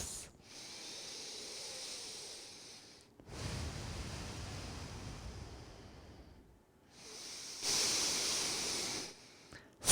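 Slow, deep yoga breaths close to the microphone, airy inhales and exhales alternating in long hissing swells separated by brief pauses, quiet and unaccompanied by speech.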